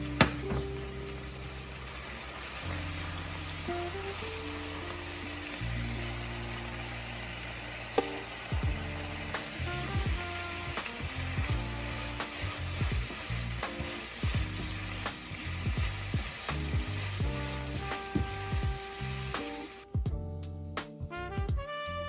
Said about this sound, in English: I'll gently stir it together and let it cook for another 2 to 3 minutes.